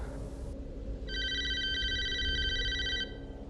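A telephone ringtone chimes as a bright, repeating electronic trill for a couple of seconds over a steady low background hum, then cuts off.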